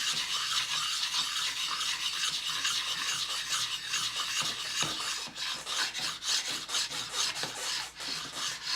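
Steady hand sanding with abrasive grit paper while truing a knife spine, a continuous close rasping rub with a few brief scrapes toward the end.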